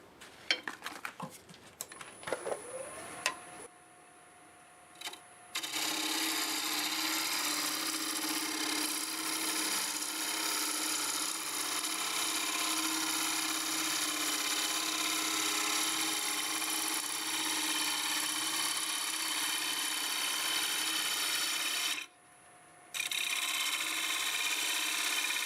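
Wood being turned on a lathe to clean up a shape: a steady, loud whirring scrape of the tool on the spinning wood runs almost without a break, with a brief pause near the end. No voices.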